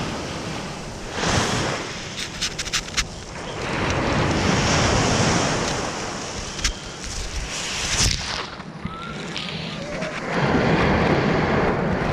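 Sea waves wash steadily onto a beach in Antalya while strong wind buffets the microphone, a loud continuous roar with surges and gusts.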